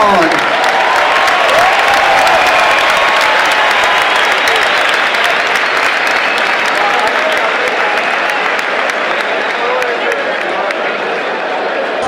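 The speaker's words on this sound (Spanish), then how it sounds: "Con los pastores del encierro a los que les damos una fuerte ovación" Loud, dense crowd applause and cheering for the herders of the San Fermin bull run, a sustained roar of clapping that stays steady for the whole stretch.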